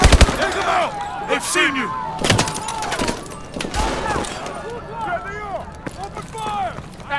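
Rapid bursts of automatic gunfire and sharp single shots in a Call of Duty Advanced Warfare firefight in an old town street, loud and close, mixed with running footsteps and shouted voices throughout.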